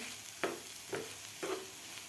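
Egg bhurji with coriander stir-fried in a pan: a steady soft sizzle broken by three distinct spatula scrapes spaced about half a second apart, close and moderately quiet, with no voices.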